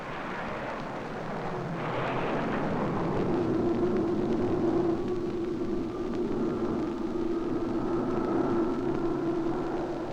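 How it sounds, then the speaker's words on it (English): Soviet fighter bombers, MiG-21 jets, take off in a sustained loud roar with a steady engine whine, rising and holding through the whole stretch, with no voices. "Fighter bombers lift off."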